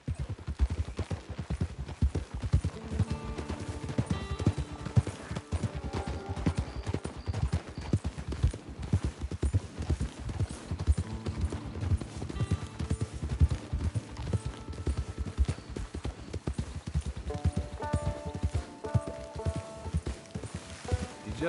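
Horse hooves galloping in Red Dead Redemption 2 beat out a steady, continuous clip-clop throughout, loud and close, mixed with game music and ambient noise.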